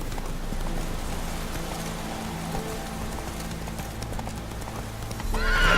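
A horse's hooves clip-clop at a gallop in The Witcher 3 video game, a steady, close drumming rhythm with soft rain-like noise behind it.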